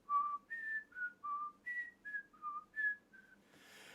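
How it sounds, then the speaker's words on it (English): A person whistles a short tune of about nine clear, separate notes that step up and down in pitch, close and fairly quiet, ending in a brief breathy noise. "How do you whistle like that?"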